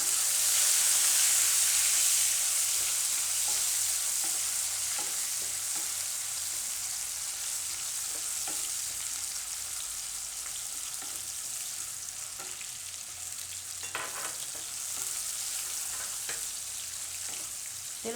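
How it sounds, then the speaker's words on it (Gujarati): Tomatoes sizzle in hot oil with ginger, cloves and asafoetida for a home-style Gujarati peas and potato curry: a loud, steady hissing fry that eases slightly after the first moments, with occasional soft clicks of stirring. "આદુ નાખીને તરત આપણે ટમેટાં નાખી દઈશું."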